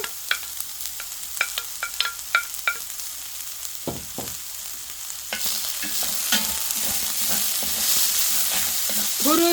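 Cucumber and garlic stir-fry in a pan over high heat, with repeated scraping and tapping of a utensil against the pan over a sizzle that grows louder toward the end.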